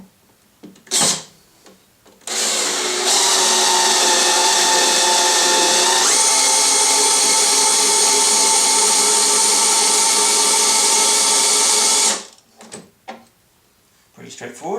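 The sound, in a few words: cordless drill driving a jack to lift a milling machine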